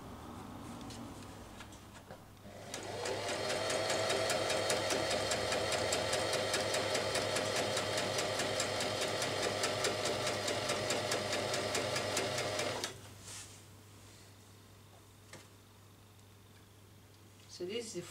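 A sewing machine stitches along a chiffon fabric neckline in one steady, fast mechanical run of about ten seconds, loud and close, with quieter handling noise before and after.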